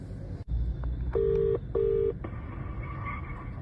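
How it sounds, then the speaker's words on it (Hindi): Telephone dialing tones, a few short beeps and two longer sustained keypad tones in quick succession over faint background noise. "मम्मी को फोन मिलाता हूँ।"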